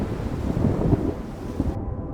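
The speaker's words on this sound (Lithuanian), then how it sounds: "Aplinka prisipildo vėjo ir dangaus riaumojimo. Ateina audra." Wind and low rumbling thunder of an approaching storm, a steady broadband roar with a swelling rumble in the middle, then the highs drop away near the end.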